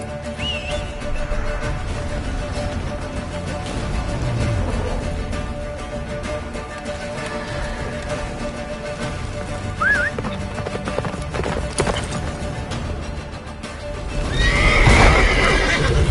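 A horse gallops in the Witcher 3 video game, with steady hoofbeats under a continuous layer of game sound, occasional neighs and whinnies, and a louder swell near the end.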